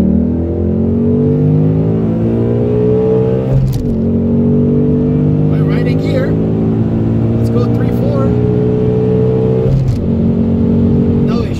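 A 2018 Ford Mustang engine revs hard in second gear toward 7,700 RPM. The loud, close engine note climbs steadily in pitch, drops sharply twice and then climbs again.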